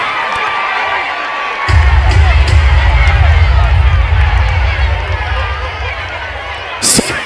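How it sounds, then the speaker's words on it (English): Outdoor crowd at a high school sports meet in Victoria Park, Kingstown, bursting into loud sustained applause and cheering after a quiet start, staying dense and steady with scattered shouts. "Let me hear another big round of applause."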